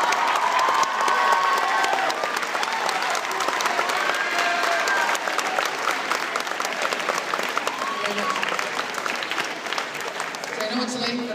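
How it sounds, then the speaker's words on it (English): Sustained audience applause fills the room for a graduate, Miss Durdichuk, who has taught music for many years, a dense steady clatter of many hands with some murmuring voices mixed in, fading slightly toward the end. "How about we do another round of applause for our graduate"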